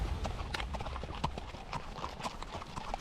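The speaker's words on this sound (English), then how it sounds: "Just riding horses." Ridden horses clop along on an Iceland horseback ride, a close, brisk, uneven rhythm of hoofbeats that continues throughout without speech.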